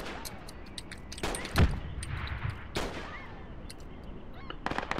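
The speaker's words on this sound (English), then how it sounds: "Enemy grenadiers hitting the cache." Grenade fire from enemy grenadiers striking a weapons cache in the military shooter Project Reality, heard as several sharp blasts and bursts spread across a noisy battlefield, with one heavy thump in the middle and scattered crackling shots near the end.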